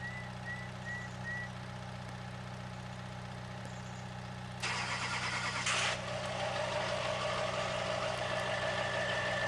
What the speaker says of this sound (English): Got to get the truck a little closer